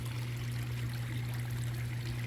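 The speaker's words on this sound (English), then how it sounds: "So the waterfall is going really slow" Water trickles slowly over a small home waterfall that is partly blocked, making a steady, continuous stream sound with a low hum underneath throughout.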